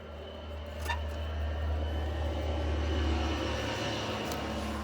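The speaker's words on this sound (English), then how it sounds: "tractor going by." A tractor passes by outdoors on a farm, a steady low engine drone holding at a constant level throughout, with a faint higher whine above it.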